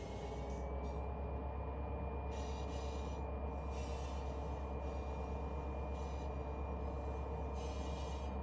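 A freight train in the Run 8 train simulator game rumbles in a continuous, fairly quiet drone that stays even throughout with no voices.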